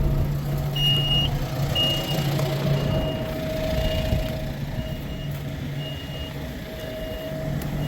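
A farm truck backing up around the farmyard gives a steady series of reversing beeps over its low, rumbling engine. The beeps repeat evenly throughout and sound fairly close, with no talk.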